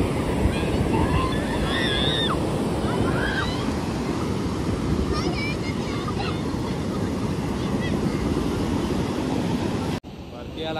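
Sea waves wash constantly onto a Konkan beach as the evening tide rises. The broad roaring surf is mixed with wind buffeting the microphone, and faint distant voices and shouts sit underneath.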